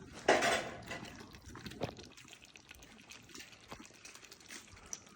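Water is poured into a pot of soaked jeera samba rice for chicken dum biryani, a brief splashing gush at first that settles into a faint trickle, close by and with no talking.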